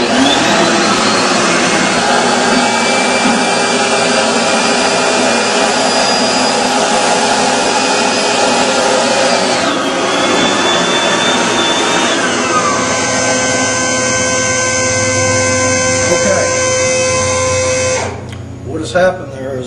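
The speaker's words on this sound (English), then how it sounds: "I want you to listen to the RPMs on the vacuum motor in this machine" A Steamin Demon carpet extractor's vacuum motor whines loud and steady, then its pitch sags as the motor chokes down on excess soap, before cutting off near the end.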